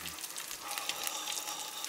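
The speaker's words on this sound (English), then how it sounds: "Sunday morning eggs and sausage. Oh, mama." Eggs and sausage fry in a pan, giving a steady, soft crackling sizzle that stays quiet and even throughout, with no talk.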